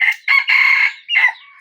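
A rooster crows loudly and close by, a single drawn-out cock-a-doodle-doo in several bursts with short breaks.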